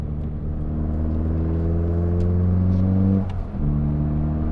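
Turbocharged engine of a Nissan Pulsar GTi-R droning loud and close as revs climb steadily, a brief dip like a gear change near the end, then the pull resumes.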